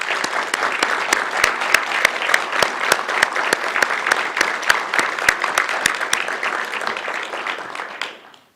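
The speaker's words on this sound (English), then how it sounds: "At this time, let's give them a hand of applause." Audience at a school district board meeting gives a sustained round of applause, dense sharp claps in a steady rhythm that carry on for several seconds before tapering off at the end.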